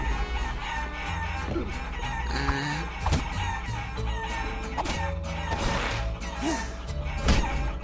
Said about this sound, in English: Because I'm punching and throwing chickens.